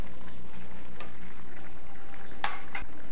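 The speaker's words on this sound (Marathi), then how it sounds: "आता ही उसळ मंद आचेवर शिजत ठेवायची आहे" Cowpea usal (chavali) simmering in a pan over a low flame gives a steady soft sizzle, with a couple of brief utensil clinks near the end. No one talks.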